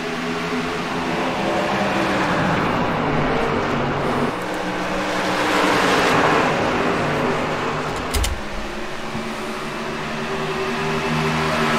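A pack of race cars at Iowa Speedway in the iRacing sim roars away from the start, a loud continuous engine drone that swells and holds steady throughout.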